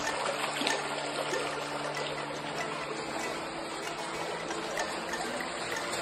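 River water flows steadily near Robber's Cave at Guchupani in Dehradun, a continuous rushing and trickling wash that fills the scene at moderate loudness, with no talking.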